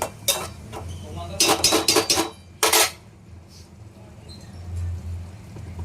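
A spoon scraping and clinking against a cooking pot while gongura leaves boil, several sharp metallic knocks in quick bursts over a low simmering rumble, with no talk.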